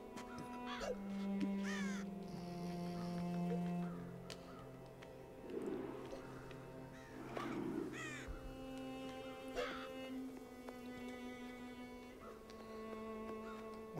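Several crows in the video game Child of Light give a string of raspy caws at irregular intervals, layered over sustained background music tones, fairly close and steady in level.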